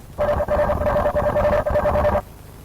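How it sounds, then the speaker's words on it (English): A steady electronic warbling tone with rapid pulsing beeps from a robot dog swarm communicating, loud and continuous for about two seconds, then stopping abruptly. "You may also hear the swarm communicate,"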